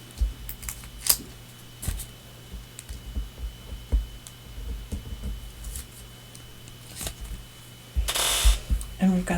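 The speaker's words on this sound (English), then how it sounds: "Let me peel all my masks off." Paint masks being peeled off a painted flower stencil surface, giving a series of faint sticky crackling rips and clicks spaced through the clip, ending in a louder, denser tearing burst near the end.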